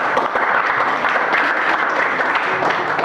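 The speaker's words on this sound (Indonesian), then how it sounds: "aplaus untuk kelompok 6" A classroom group of students and teacher applaud a presenting group during a mathematics lesson, steady clapping filling the room for about three seconds, close and dense without pause.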